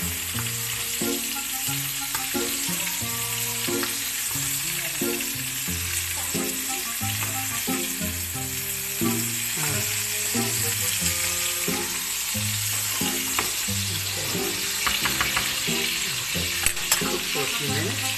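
Pork chops fry in a pan over a gas flame, a loud continuous sizzle with spattering crackles and repeated clinks of a utensil, and a voice speaking intermittently over it.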